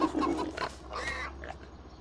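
Piglets oinking in Farming Simulator 25 on the Westbridge Hills farm: a few quick, soft grunts and squeals come close together, fairly quiet over a low steady hum, with no talk.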